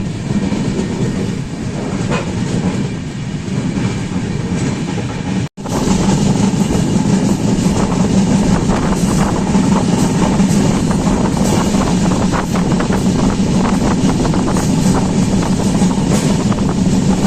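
Mandovi Express running on the Konkan line, a continuous heavy rumble and rattling wheel clatter heard from on board, louder after a brief dropout partway, with no voices.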